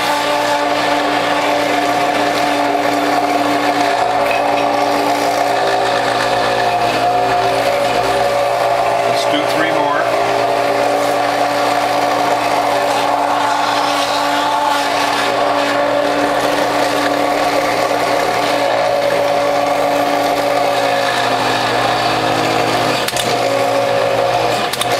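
A juicer with a blowback cutter grinds three red Swiss chard leaves with a loud, continuous motor drone that holds steady for the whole stretch, with no talking over it.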